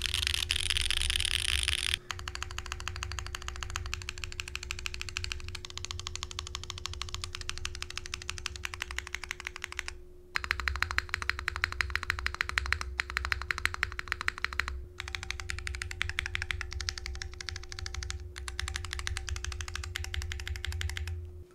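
Mechanical keystrokes on a Mode SixtyFive keyboard, including a distinctive space bar, clatter in steady rapid bursts close up, with short pauses between runs and a constant low hum underneath.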